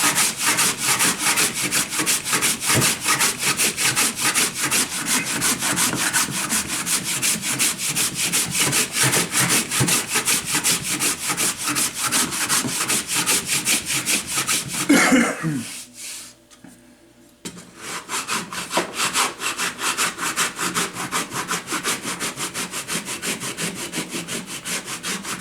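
Steady, rapid rasping of a wooden cabinet being sanded back and forth, loud and close, which stops abruptly near the end, then resumes after a short quiet gap.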